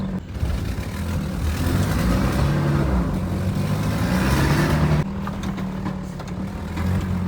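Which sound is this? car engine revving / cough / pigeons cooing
car engine revving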